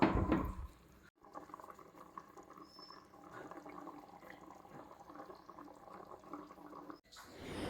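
Sardine curry simmers in a pot on the stove, a soft steady bubbling and gentle patter, faint and continuous with a brief pause.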